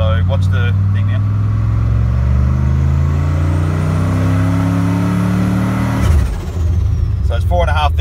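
An engine revs hard against a 4L60E transbrake, stalling a 3,000 torque converter to about 4,500 rpm under boost, its pitch rising steadily for six seconds before dropping abruptly; brief voices are heard at the start and end.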